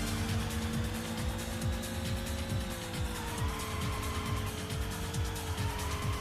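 Engine whine and repeated tire squeals from street racing in the video game Racing Lagoon on tight city streets, a loud continuous motor drone with rising and falling pitch sweeps and skidding screeches layered throughout.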